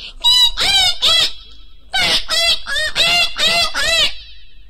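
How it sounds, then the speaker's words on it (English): Baby crows in an animated Panchatantra story caw loudly in a close, harsh series of about eight calls, three and then five, separated by a short pause. "On seeing the snake, the baby crows raised a hue and cry."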